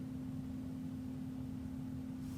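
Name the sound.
furnace or air conditioning running in the background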